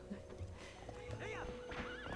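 A horse in the Zelda: Twilight Princess video game whinnies and clip-clops at a canter, heard at moderate level with people talking over the game sounds.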